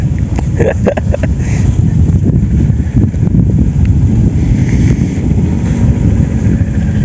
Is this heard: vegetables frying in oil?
no